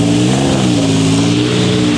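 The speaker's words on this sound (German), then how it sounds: "Das ist ein XJ220 zum Beispiel." Jaguar XJ220 supercar at Goodwood, its engine droning steadily and fairly loud with a smooth rising and falling pitch, heard under people talking nearby.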